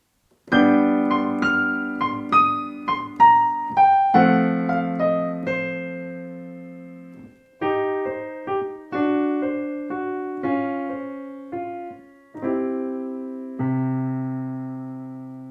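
Blues piano plays an ending with a run of rhythmic chords and bass notes, pausing briefly midway, then closing on sustained final chords, with no voices.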